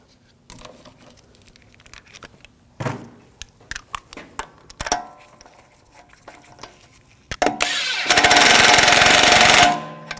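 On a 2006-2009 Audi S4 wheel, lug bolts are fitted with scattered metallic clicks and taps, then one loud, sustained buzzing power-tool burst of about two seconds runs the bolts down before stopping abruptly.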